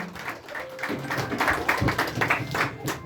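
A church congregation claps in a quick, rhythmic patter that stays steady throughout, moderately loud, with voices and faint music mixed in.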